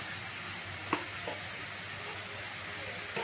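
Ginger paste hits oil in a pan over a low gas flame while cooking mutton curry, giving a steady soft sizzle with a few brief stirring clinks.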